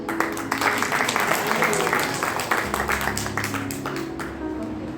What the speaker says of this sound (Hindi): प्रभु के लिए तालियां तो होनी चाहिए ना